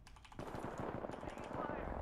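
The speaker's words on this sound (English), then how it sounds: "Getting shot at." Automatic gunfire in the looter shooter The Division 2 breaks out after a short quiet moment into a fast, steady stream of close, punchy shots that keeps going to the end.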